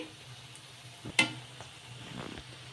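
Puffed rice fritters (punugulu) fry in hot oil with a soft, steady sizzle, broken by a brief stirring clatter and a few light scrapes, with no talk.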